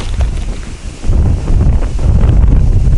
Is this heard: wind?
yes